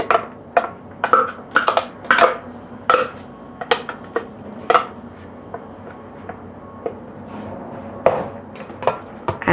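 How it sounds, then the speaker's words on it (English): Plantain being mixed with butter and sugar in a bowl, with irregular close clinks and scrapes of a utensil against the bowl in uneven bursts, then a quieter pause before more knocks, without speech. "Now we will be combining the plantain to the butter"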